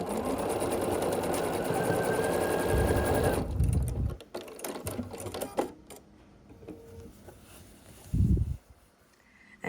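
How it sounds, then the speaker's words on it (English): A sewing machine stitches the final seams of a scrappy sampler quilt block, running in a fast continuous whir for a few seconds, then a few short bursts and clicks separated by quiet pauses. "then you just need to sew your final 2 seams."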